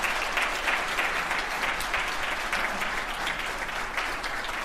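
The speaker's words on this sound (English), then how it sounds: "I ask that you give these guys a round of applause" A crowd at a military retirement ceremony applauds continuously, a steady, even wash of many hands clapping at moderate distance throughout, with no voices standing out.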